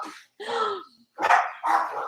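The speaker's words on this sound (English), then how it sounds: "My dogs are going crazy." Dogs bark at home in a run of three or four loud, close, sharp barks with short gaps between them, heard alone.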